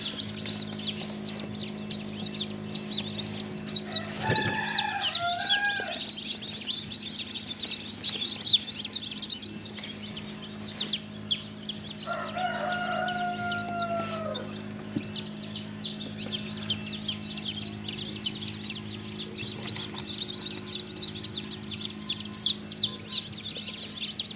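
Bright, high chirps of one-day-old Tiger chicken chicks at a poultry farm come in short bursts over a steady low hum and a busy, noisy background, with a few clucking calls mixed in.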